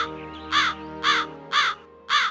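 A crow caws four times in an even rhythm, each harsh call loud and close, with short gaps between them over a faint steady background hum.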